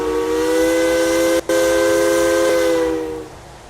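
A Pennsylvania Railroad E6 Atlantic three-chime steam whistle in the High Iron train game, one loud steady chord blown for about three seconds with a brief break near the middle, then fading away.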